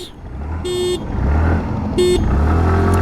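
Two short scooter horn beeps sound over a steady engine drone, followed by a third brief honk near the end, close and loud, at the start of a full-throttle acceleration test.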